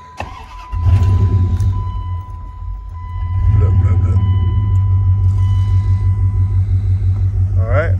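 A Dodge Ram 1500 pickup with a suspected idle air control valve fault cranks and starts, then settles into a loud, steady close-up idle rumble with a rising surge partway through.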